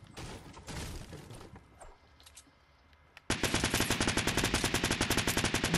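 Burst rifle gunfire in Fortnite erupts partway through as a loud, rapid, evenly spaced string of close shots, following quieter game noise and scattered sounds.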